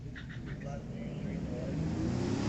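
A drag racing truck accelerates at Mission Raceway Park during street legal drags, a steady, fairly distant engine roar that builds slightly, with voices talking over it.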